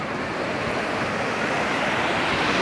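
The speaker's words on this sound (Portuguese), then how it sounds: "as ondas estão batendo nas minhas pernas, estão me balançando" Sea waves at a beach near Areia Vermelha, Brazil, wash around a wader's legs in a steady, broadband roar of surf and wind, loud and continuous with no distinct breaks or voices.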